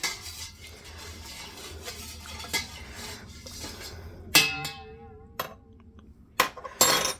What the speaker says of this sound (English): so I'm going to give that a stir.